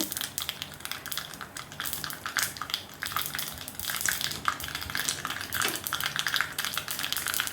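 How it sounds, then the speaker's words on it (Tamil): Busy crackling and popping of mustard seeds spluttering in hot oil, a dense, continuous sizzle with sharp pops scattered throughout. "கடுகு நல்லா வெடிக்க ஆரம்பிச்சிருச்சு."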